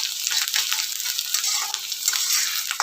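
Chopped onion stirred and sautéed in a hot pan, continuous sizzling with scraping strokes of a spatula, close and fairly loud.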